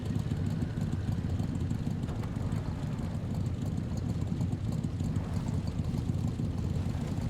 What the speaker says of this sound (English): But the engine sounds really unhealthy.